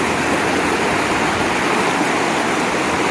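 Rushing stream water near Murree, rising in force: a loud, continuous broadband hiss and roar like a small waterfall, steady and close throughout with no talking.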